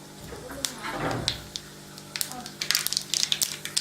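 Mustard seeds hit about 50 grams of hot oil in a pan for a spicy chutney tempering, starting as a soft sizzle and breaking into a rising burst of sharp crackles and pops toward the end, close by with no talk.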